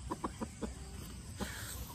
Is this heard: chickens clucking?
yes